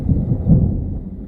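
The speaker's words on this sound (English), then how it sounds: "So I'm filming the storm clouds because it's thundering and lightning out here." Thunder during a storm over Lake Apopka, a brief, loud, deep rumble that rolls steadily for about a second, with no voices.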